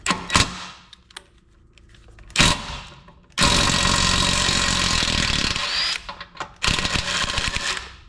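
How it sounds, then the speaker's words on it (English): A rattle gun (impact wrench) working rusted bolts on an 80 Series vehicle, loud close bursts of rapid hammering whir that start and stop, with the longest run lasting a few seconds. "I think I can just get the rattle gun out, and this should come down fairly easy"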